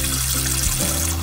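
Tap water runs at a low flow over cut potatoes for triple-cooked fries, rinsing off the starch in a steady, continuous stream that splashes into a filled bowl with no pauses.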